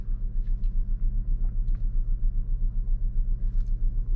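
Faint, steady low rumble from the 1.5 turbo petrol engine of a 2024 Lynk&Co 01 plug-in hybrid cruising at night, a soft pulsing drone with no talking.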